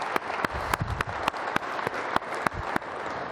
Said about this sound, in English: And I'd like you to give a round of applause for yourselves